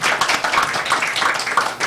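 A small group claps in a brief burst of scattered applause, close and fairly light, with no talking over it.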